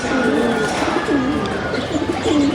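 Pigeons in a loft coo repeatedly in low, rolling phrases, several calls close by over a steady background hiss.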